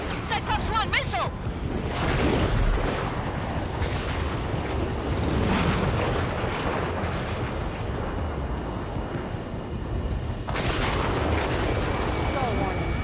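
Missiles launching and explosions ring out in the Ace Combat 7 flight game, a sustained loud roar of blasts and booming fire with sharp whooshes, under radio chatter and alarm voices.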